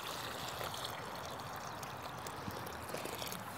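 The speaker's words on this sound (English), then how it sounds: "So I will always pre-water whatever area that I'm planting." Water pours steadily onto garden soil before a tomato transplant, a continuous soft splashing rush heard close and alone.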